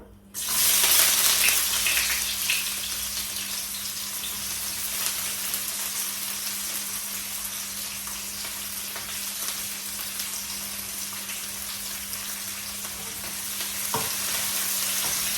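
Chopped onions hit hot oil with popped mustard seeds for a prawn stir-fry, bursting into a loud, steady sizzle that holds close and unbroken for the whole stretch, with no talking.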